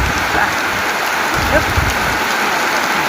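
Steady rain pours down, a dense even hiss of drops spattering on surfaces close by, continuous and fairly loud.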